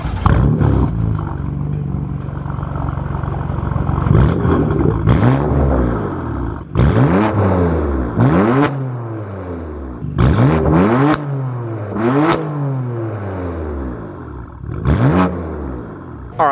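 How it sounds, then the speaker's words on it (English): A BMW M4 (F82/F83, 2015-2020) engine revs hard several times in a row through its exhaust, each roar rising and falling, with a deep idle rumbling between the blips. "let me get some exhaust clips for you guys as well"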